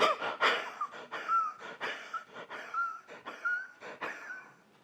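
A voice imitates an asthmatic cough and wheeze for a film character, with repeated gasping breaths, strained rasps and thin whistling wheezes in a close, rhythmic series.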